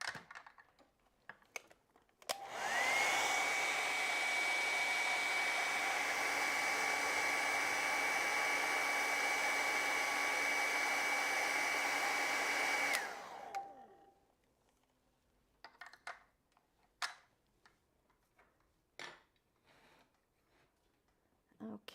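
A hair dryer runs close and loud for about ten seconds, drying a watercolor painting, a steady whirring roar that starts and stops abruptly, followed by light tapping and handling sounds.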